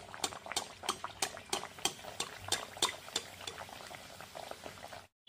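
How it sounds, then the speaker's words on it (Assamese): Aloo puri deep-fries in plenty of refined oil, a quiet bubbling sizzle with soft pops and bursts, close but low in level, cutting off abruptly near the end. "আৰু তেল অলপ বেছিকৈ দিছোঁ, যিহেতু পুৰিখিনি তেলত ডুবাই ভাজিম।"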